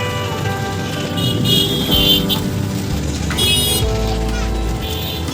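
Riding in a car on a road trip to a parent's home, with broadband road and engine rumble, a horn toot, and continuous traffic noise throughout, while a child's and adult's voices are faintly present.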